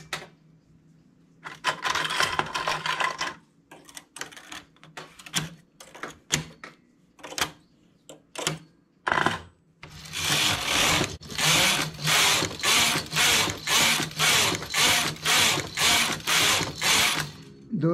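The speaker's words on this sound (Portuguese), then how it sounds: "Vou tecer 10 carreiras." A knitting machine carriage runs back and forth knitting rows of a one-finger glove, giving a sparse run of clacking passes followed by a steady, loud series of regular rhythmic mechanical sweeps with no talking.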